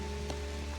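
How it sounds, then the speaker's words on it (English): Rain falls steadily outdoors along a hiking trail during a thunderstorm, making a dense, even hiss with faint drips, close and continuous, no voices. "So we're just gonna sit, enjoy the rain, enjoy the sounds of the thunder"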